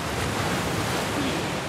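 Ocean waves in The Last of Us Part 2 while swimming, a dense, constant loud wash of surf and wind-like noise with no pauses.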